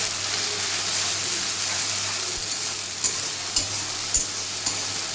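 Cumin, garlic, green chili and ginger frying in hot oil, a steady close sizzle throughout, with a low hum and a few faint clicks under it.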